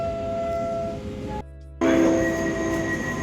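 Steady rumble of a moving passenger train from inside the carriage in Germany, with rail and wheel noise running throughout, a brief muffled dip in the middle, then louder running noise resuming.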